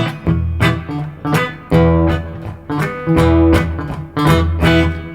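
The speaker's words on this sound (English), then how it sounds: "You can either play with a thumb pick" Acoustic guitar in a hill-country blues style, bass notes plucked with a thumb pick in a driving alternating rhythm under treble strums and licks, bright and close.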